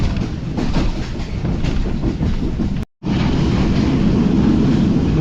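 Karachi Express train rolling on rails in winter, a loud steady rumble with rhythmic clickety-clack of the wheels, broken by a brief near-silent gap before the running noise resumes just as loud.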